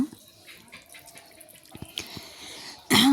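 Tap water splashing over hands at a kitchen sink, faint drips and trickles building into a loud close gush of running water.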